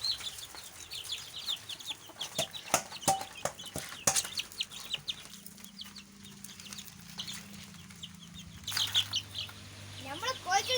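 Chickens being fed chicken biryani cluck and squawk near their coop, giving scattered close calls, a few sharp bursts and a brief low hum, fairly quiet overall.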